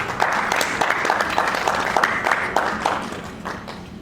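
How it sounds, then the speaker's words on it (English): An audience at a congress applauds with steady, fairly even clapping from many hands for about four seconds, moderately loud with no talk over it. "A round of applause"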